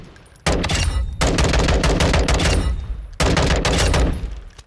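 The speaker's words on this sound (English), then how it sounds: "we'll go ahead and run the firing range preview with the A4 without the Grenadier" M16A4 rifle fired on a firing range in Call of Duty Modern Warfare II: three loud, close bursts of rapid automatic shots, each lasting about a second or two, separated by brief pauses.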